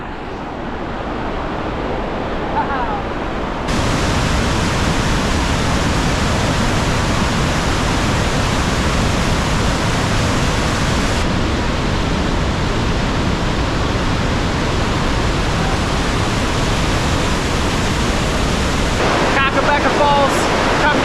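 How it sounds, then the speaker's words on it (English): Kakabeka Falls, a powerful waterfall, roars as a dense, steady wash of rushing water that swells sharply and stays loud and unbroken throughout. "We have arrived, and I can already hear it ripping."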